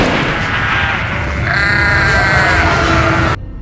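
A goat, possessed by an evil spirit in a horror story, bleats loudly and close, one long wavering cry over a heavy rumbling background that cuts off abruptly at the end.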